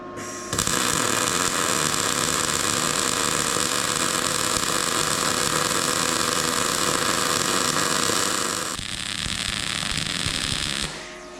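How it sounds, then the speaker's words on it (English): A MIG welder burns a straight bead without oscillation, giving a steady, loud, close crackling hiss that runs unbroken for about eight seconds, dips briefly, then continues before cutting off; no voices. "now we'll just get right into the straight, no oscillation, just burning a straight weld"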